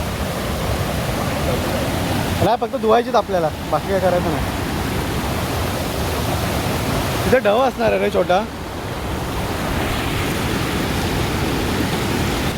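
A nearby waterfall, a hidden cascade in the Konkan, rushes as a loud, constant roar. Two stretches of conversation between friends washing rice beside it sit over the noise.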